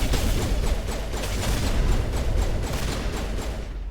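A Mass Effect grenade is lobbed and detonates, heard as a dense rumbling blast with crackling debris and low booming energy sustained across a few seconds, no talking.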